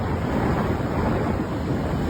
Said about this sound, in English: the high waves are crashing onto the shore